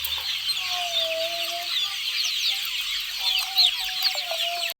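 Country chickens on a village farm cluck and chatter steadily near a shed, a busy flock of overlapping soft calls with a few sharper squawks, no talking.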